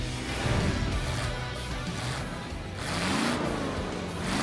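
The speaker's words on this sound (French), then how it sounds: "Regardez ces moteurs prêts à bondir sur la ligne de départ." Engines of Hot Wheels race cars rev at a starting line in an animated cartoon, a continuous dense roar with rising and falling revving swells, fairly loud throughout and with no talking.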